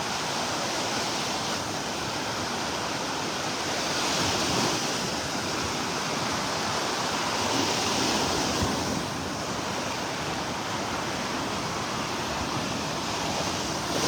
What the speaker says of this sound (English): Listen to those waves rolling over the sandbar out here.